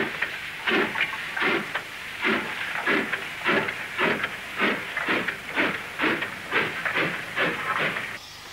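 A steam train crosses the Harden Bridge over the Dee Navigation, its exhaust beating in strong, regular chuffs about twice a second, loud and close with a hissing wash between beats.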